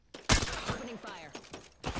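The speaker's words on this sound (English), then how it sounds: "Opening fire." Gunfire from Apex Legends gameplay: a sharp, loud burst near the start followed by rapid, dense shots and game effects, with a voice talking over parts of it.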